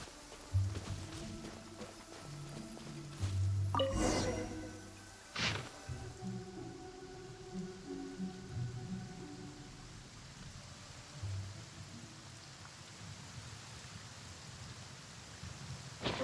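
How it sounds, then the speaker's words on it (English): Steady rain falls in a video game in a soft continuous hiss, with a couple of louder clanks near the start and a low rumbling hum beneath. "It's raining again?"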